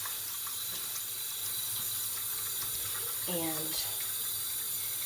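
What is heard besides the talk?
basin filling with cool water from a tap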